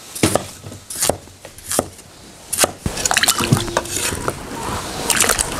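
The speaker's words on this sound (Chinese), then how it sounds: "先把它切成小坨坨" A knife chops half-size potatoes into small chunks on a board, sharp distinct knocks in an uneven rhythm, close and loud, followed by denser clattering cuts.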